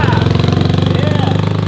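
140cc ATV engine after a push start, a close, loud, rapid rhythmic chugging pulse running steadily through the moment.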